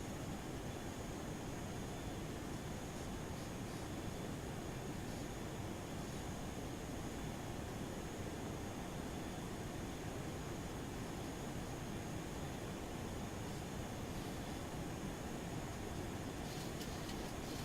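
A FlyJSim Boeing 737-200 in a flight simulator climbs out after takeoff from Paderborn, its steady, even engine roar holding at a constant level throughout with no talk.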